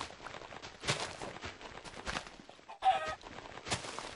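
Chicken in the video game Minecraft clucking in short bursts at close range, mixed with game noise and a possible footstep or two, with no talk over it.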